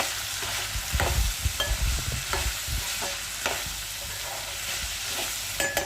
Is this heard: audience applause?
no